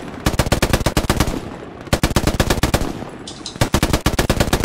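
Machine gun fire in a video game rattles out in loud, rapid bursts, broken by short pauses between strings of shots.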